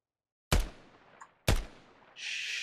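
Two sharp, loud rifle shots roughly a second apart ring out in the tactical shooter game Ground Branch, each with a short decaying echo, followed by a steady hiss.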